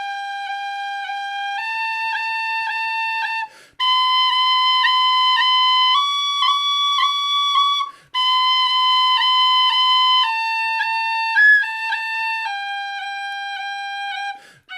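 Tin whistle playing a scale exercise, each held note ornamented with quick taps, stepping up note by note in three phrases separated by brief pauses, clear and alone.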